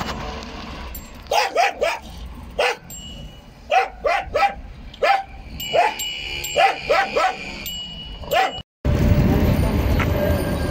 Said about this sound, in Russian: Парень на велосипеде катается, а собака его гоняет